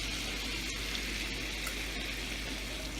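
Shrimp sizzle steadily in a pan of thickened sauce, a dense, continuous crackling hiss that stays close and even throughout with no talking.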